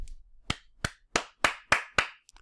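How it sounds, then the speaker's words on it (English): Six crisp hand claps in a slow, even rhythm, close and isolated against near silence, with a faint extra tap at the very end. "clap it up for him saying that."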